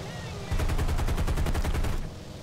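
Gunfire from a rear defensive turret on an A-20G-30 bomber in War Thunder, a fast rhythmic machine-gun burst of about a dozen and a half rounds lasting roughly a second and a half, loud and close over a steady engine drone.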